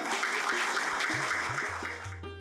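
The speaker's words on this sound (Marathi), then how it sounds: "आपल्या मालवणी मनासाठी जोरदार टाळ्या होऊन जाऊया" Applause at a book launch ceremony in Mumbai, a dense wash of clapping from the gathered audience with voices speaking over it throughout.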